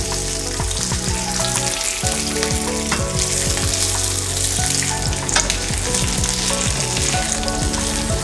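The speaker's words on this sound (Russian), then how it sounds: "Добавляем масло на сковороду, разогреваем немножко и будем жарить нашу капусту." Cabbage fries in oil in a pan with a constant loud sizzle and crackle, close up, with occasional scraping and stirring sounds and no talking.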